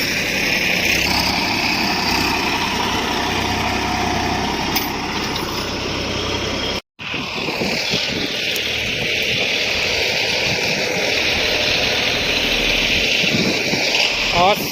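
Tractor engine running on a soybean farm during sowing preparation, a steady loud drone that continues almost unbroken except for one brief cut, with voices talking over it.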